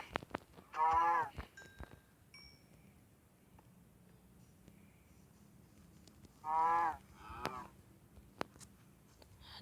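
Two drawn-out video game cow moos, several seconds apart, sound over a quiet background with faint scattered clicks.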